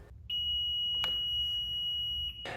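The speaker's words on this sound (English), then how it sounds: "pressing and holding the start button for 4 seconds until you hear a beep" A Honda Goldwing motorcycle gives one steady, high electronic beep during its emergency start procedure, sounding for about two seconds after the start button is held, clear and close over a quiet low background.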